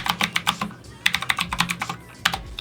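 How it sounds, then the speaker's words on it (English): Fingers type on an affordable RGB mechanical gaming keyboard in quick, close bursts of crisp clicks with short pauses between runs. "Let's check the typing on it real quick."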